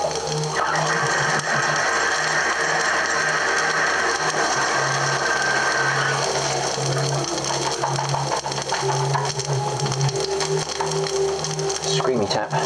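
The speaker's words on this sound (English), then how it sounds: "Screamy tap." A squeaky kitchen tap runs loudly nearby, a pulsing mechanical shriek over rushing water that shifts in pitch partway through and surges at the end.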